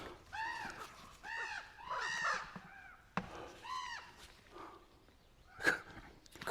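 Crows squabble outdoors, giving repeated harsh caws in several bursts, some overlapping, at moderate distance, with a sharp knock and a louder call near the end.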